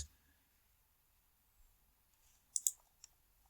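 Faint mouse clicks on Chrome browser settings: a quiet pause, then a quick pair of sharp clicks followed by one softer click, with no talking.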